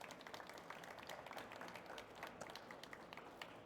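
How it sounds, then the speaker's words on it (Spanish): A live audience at a design talk gives a faint, brief round of clapping, a thin scattered patter of hands heard from a distance. "Un aplauso para Luca."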